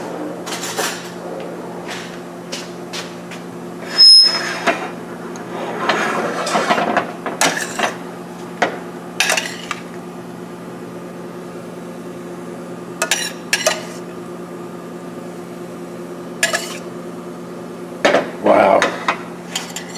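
A metal ladle clatters against a cooking pot in a home kitchen where garlic pork with mushrooms and brown rice is being made: scattered sharp clinks and knocks, some in quick clusters, over a steady low hum, with no talking.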